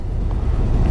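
A Harley-Davidson motorcycle engine on a 2023 demo model, close and loud, giving a short low rumbling rev as the throttle is touched, with wind noise.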